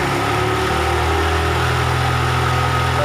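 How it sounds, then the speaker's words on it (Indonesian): A Honda Revo Absolute motorcycle engine runs close and loud with a steady, throbbing low rumble as the throttle is held open, continuous throughout. "Kita coba tambah gas."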